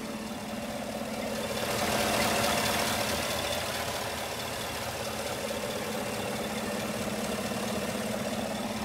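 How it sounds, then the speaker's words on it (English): A 2016 Chevy Silverado pickup's engine idles with the hood open, giving a steady, close mechanical hum with a low throb and a faint rattle, running alone without talk. "Jump out here, take a listen to the motor."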